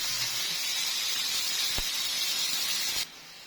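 Grated onion dropped into hot oil hisses loudly and steadily at close range, a dense sizzle with one brief knock midway, then drops sharply in level near the end.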